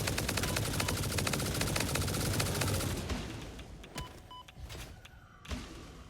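Rapid automatic gunfire from a weapon in the video game Satisfactory rattles loudly for about three seconds, then cuts out, leaving a few faint clicks and thuds.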